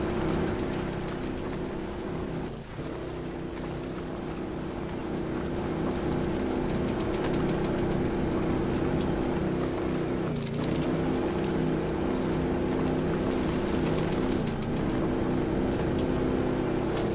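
A VAZ-2170 Priora engine in the Spin Tires video game drones steadily while the car is pulled along on a winch, a continuous low hum held at close range for the whole stretch.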